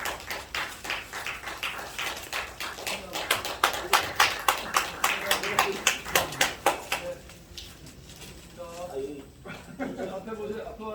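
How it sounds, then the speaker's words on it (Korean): Congregation applauding at a Korean church installation ceremony, a run of loud rhythmic claps building then fading, followed by voices talking. "박수로 함께 영광 드립니다."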